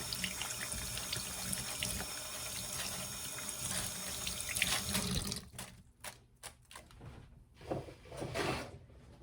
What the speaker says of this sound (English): Wash my hands again so I can get the seasoning out.